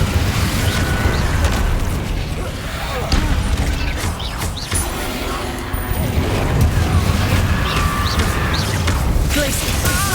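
Fire-blast Confringo spells are cast in the wizarding game Hogwarts Legacy, with booming magical explosions and crackling impacts layered over dense, continuous combat effects and game audio, while a player talks loudly over the action.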